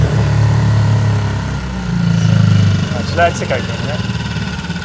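A loud boat engine on a yacht idles with a steady low rumble that rises briefly, while a person talks over it.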